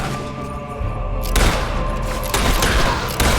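Gunfire in the video game Fable 3, a loud rapid fusillade of shots with booming bursts and repeated blasts close up, no speech over it.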